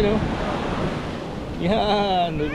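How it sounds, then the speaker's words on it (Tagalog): High surf rolling in at a beach hotel in La Union, Philippines, a steady broad wash of crashing waves mixed with wind noise on the microphone, with people talking excitedly over it near the end. "Taas ng alon"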